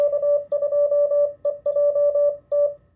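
An amateur radio operator sends a full call sign in CW Morse code for a special event or DX contact: one pure tone keyed in rapid dot-dash groups with short gaps, clear and prominent, with no talking.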